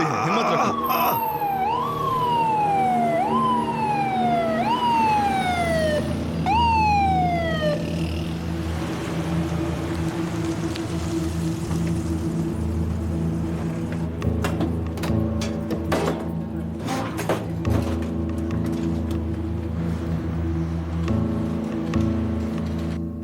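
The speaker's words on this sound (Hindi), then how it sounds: "एम्बुलेंस आने वाली है" A wailing emergency siren sweeps up and down loudly at first, then gives way to a steady engine drone and scattered clatter; the siren is near and dominant in the opening seconds.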